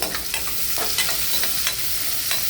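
Salted white bitter gourd sizzles steadily as it fries in a pan, with a spatula stirring and scraping through it in repeated close strokes.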